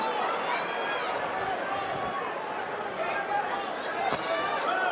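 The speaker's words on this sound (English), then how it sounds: "Crowd starting to finally settle down a little bit." Boxing arena crowd murmuring and chattering between exchanges in a Mario Barrios versus Ryan Garcia fight, a dense steady din at moderate volume with a commentator talking over it.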